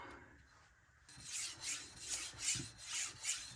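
A kitchen knife is worked against a 600-grit Nano Hone diamond resin sharpening stone, giving rhythmic raspy strokes, about five or six even passes, close and fairly quiet after a short hush.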